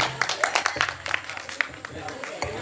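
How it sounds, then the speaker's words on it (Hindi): Sparse, scattered clapping from a small audience after a karaoke song at a palliative care event, brief and uneven, with a voice talking over it. "बट तालियां बहुत कम बजी हैं"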